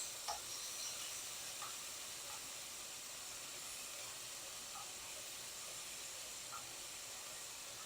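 Fajita meat sears on a hot pan with a constant bright, hissing sizzle. Faint pops come through now and then, and no voices are heard.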